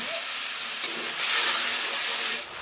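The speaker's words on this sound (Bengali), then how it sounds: "সামান্য পরিমাণে আমি জল দিয়ে মশলাটা সুন্দরভাবে কষিয়ে নেবো" Masala frying with a splash of water in a pan for a village-style doi katla fish curry, giving a loud, steady hiss and sizzle that swells briefly midway, close and unbroken.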